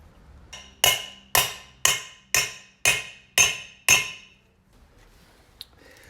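A large old socket is hammered to seat a bearing race in a 2500HD rear axle hub: seven sharp, evenly spaced metallic strikes ring out close and loud, then a faint clink follows.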